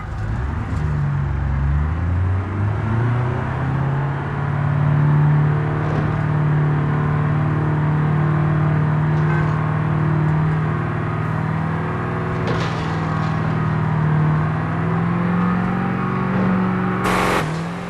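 A vehicle engine in BeamNG revs up as it starts moving, a loud steady drone climbing in pitch and holding, with whirring and a few clunks near the end, no voices.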